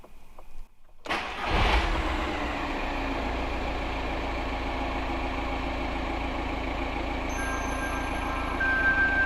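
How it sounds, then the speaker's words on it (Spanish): A car engine cranks and catches, then settles into a steady idle heard from the driver's seat, and a faint electronic tone from a dashcam camera sounds near the end. "Ese sonido que acabáis de escuchar no es el del HUD, es de una cámara dashcam"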